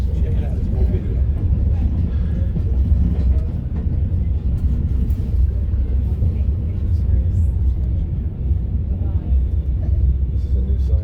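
Aboard a Reading & Northern Railroad passenger train near Jim Thorpe and Nesquehoning, a steady, low, droning rumble of the moving train carries on without pause throughout.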